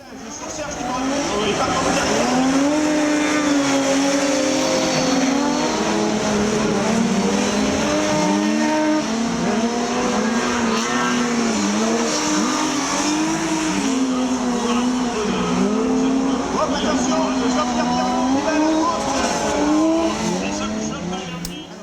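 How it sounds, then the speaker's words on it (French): Electric race car driven hard at Isola 2000: a loud, steady, whining drive note that rises and falls continuously with speed changes, mixed with tire squeal, for the whole stretch with no pauses. "Et encore Stéphane Ortelli, toujours à Isola 2000, mais cette fois-ci avec un véhicule électrique"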